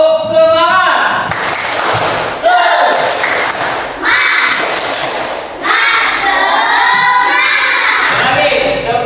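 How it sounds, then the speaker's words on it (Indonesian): A classroom of students beats out a rhythmic spirit clap together during a religious education lesson, with loud, dense bursts of claps and thumps repeating in a steady pattern and some voices mixed in. "Tepuk semangat."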